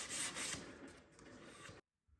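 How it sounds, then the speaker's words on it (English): Wooden tenons on a mid-century modern wall unit being hand-sanded in a short burst of close, dry rubbing strokes that stops abruptly, leaving near silence. "a quick round of sanding just to remove any tooling marks and ensure a nice snug fit"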